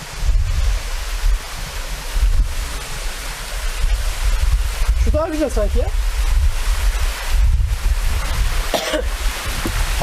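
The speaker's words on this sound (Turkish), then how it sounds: "Şu şelale bu mu diyeceğim ama hani gerçek manada bir şelale değil benim gözümde de." Water spills over a small waterfall at a swimming spot, a continuous broadband rush heard close alongside gusty wind buffeting the microphone, while someone talks briefly over it.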